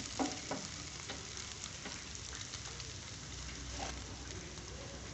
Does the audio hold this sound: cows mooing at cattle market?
no